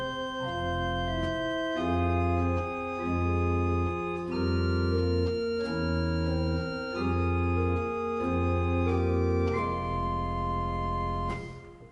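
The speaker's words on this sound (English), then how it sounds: "you could use, say, the 8-foot prestant with the quint for the melody and just accompanying with the flutes on the Brustwerk" An 8-foot prestant with quint carries the melody on a pipe organ at Nazareth Lutheran Church, South Brisbane, accompanied by flutes on the Brustwerk. Full, sustained chords change in a slow, steady progression and fill the whole passage with no voices.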